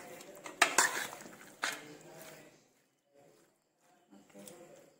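Chicken pieces are mixed by hand or spoon with chilli flakes marinade in a bowl, giving wet squelching and clinking for a couple of seconds, then quieter scattered handling sounds after a pause.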